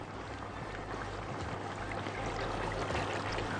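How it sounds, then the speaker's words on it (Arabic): Milk pouring steadily into a béchamel sauce, a soft continuous liquid rush with a faint trickling texture and a low hum underneath, no voices. "نضيف بقى بقيه الحليب واحنا مطمنين"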